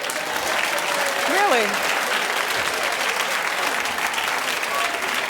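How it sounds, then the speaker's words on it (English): Studio audience clapping on a daytime talk show, sustained dense applause filling the room for several seconds while a voice briefly speaks over it. "Clap if you have a cheat day."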